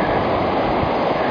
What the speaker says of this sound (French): Les vagues sont belles.